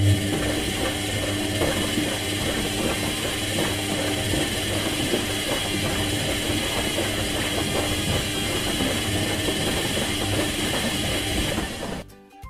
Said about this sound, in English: Number 4. Washing machine sound.